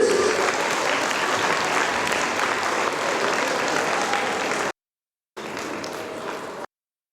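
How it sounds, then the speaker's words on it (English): An audience at a school annual day applauds warmly to welcome the principal to the stage, a loud, dense, sustained round of clapping that cuts off briefly and resumes. "with a warm round of applause to invite her to the stage"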